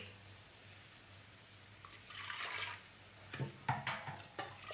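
Hot water poured into a pot of dal for dal fry, a soft watery splash and trickle that builds in the second half with a few brighter splashy bursts near the end.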